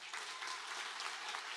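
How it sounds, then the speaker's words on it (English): An audience at a spring white coat ceremony gives Dr. Rock a round of applause, a steady, dense wash of clapping that sounds somewhat distant and quiet. "I think Dr. Rock deserves another round of applause."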